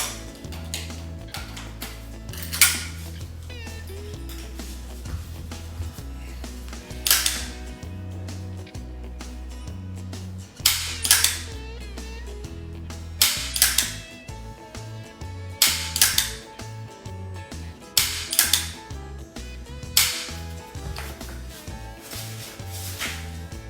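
Gunfire from a second magazine at a shooting range: sharp shots in irregular bursts and singles over about twenty seconds, with a steady low hum underneath and no talking.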